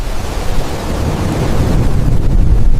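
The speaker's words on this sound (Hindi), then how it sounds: "रास्ते में हवा तेज हुई" Strong wind blows steadily and loudly for a few seconds, a broad rushing roar with low rumble that swells slightly toward the end, heard alone as a story sound effect.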